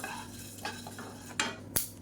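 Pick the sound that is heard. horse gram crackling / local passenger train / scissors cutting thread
horse gram crackling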